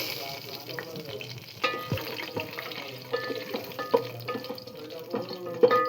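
Whole spices (cardamom, star anise, pepper, cinnamon, mace, bay leaves) with green chilies frying in hot oil: a steady close sizzle broken by irregular scraping and clinking stirring knocks.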